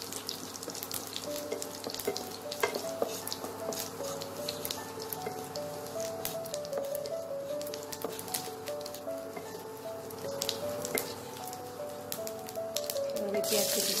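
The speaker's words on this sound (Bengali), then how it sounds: "এই তেলে আমি প্রথমে তেজপাতা দেবো একটা, আর সাদা জিরে ফোড়ন দেবো।" Bay leaf and cumin seeds crackle and sizzle in hot oil, a continuous close frying hiss with scattered pops and stirring, while faint tonal background sound runs underneath.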